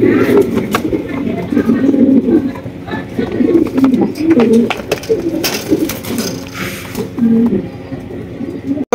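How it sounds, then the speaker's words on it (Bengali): Pigeons of several fancy varieties cooing at a pigeon farm, their soft repeated coos overlapping closely while a person talks nearby. "এখানে রয়েছে বেশ কিছু আপনার ভ্যারাইটিস কবুতর।"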